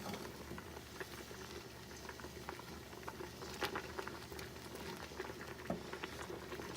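Thick Native American corn soup bubbles and plops steadily in a pan while being stirred, a dense low simmer with scattered soft pops and occasional louder blips, close and continuous.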